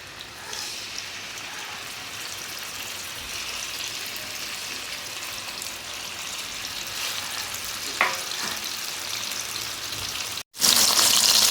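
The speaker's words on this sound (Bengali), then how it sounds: "তেল গরম হয়ে গেছে, আমি মাছগুলো একটা একটা করে এর মধ্যে দিয়ে দেবো।" Rohu fish pieces fry in hot refined white oil in a pan, a loud, steady sizzle with a brief cutout and then a louder burst near the end.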